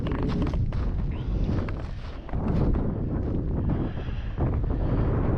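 Strong wind buffeting a microphone outdoors at a rocky coulee during winter truck camping, continuous loud low rumble with gusty surges throughout and no speech.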